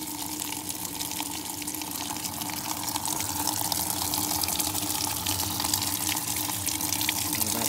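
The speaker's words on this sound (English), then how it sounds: "You can see we are filling for the rinse." A washing machine fills with water for the rinse, a steady rushing gush of water that runs loud and unbroken throughout, without any talk.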